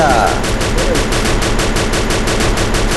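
Rapid, loud automatic gunfire fills a shooting video game as a steady stream of shots, with a brief burst of other game sounds near the start.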